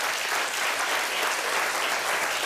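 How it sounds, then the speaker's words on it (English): An audience at an art prize jurors' presentation breaks into steady, dense applause that is uniform and continuous throughout, with no voices over it. "And I will take applause for that."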